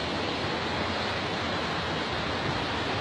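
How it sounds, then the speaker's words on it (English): Continuous broadband wash of flowing water in Red Hill Creek in early spring, steady and moderately faint with no speech or other sounds over it. "So this is pretty much Red Hill Creek."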